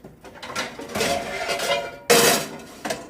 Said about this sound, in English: Okay, I got my frying pan on.